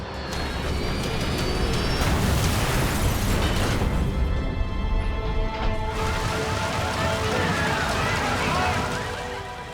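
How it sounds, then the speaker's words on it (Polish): A passenger plane crashes into a Queens neighbourhood and explodes, its burning fuel forming a fireball that engulfs several houses. The result is a continuous loud roaring rumble with crackling bursts, dense and sustained, and a voice speaks over part of it. "Płonące paliwo tworzy kulę ognia, która pochłania kilka domów."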